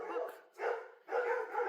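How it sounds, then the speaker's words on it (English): Several dogs barking excitedly in three bursts with brief pauses between, fairly close and loud, with no other sound over them. "Dogs are going wild again."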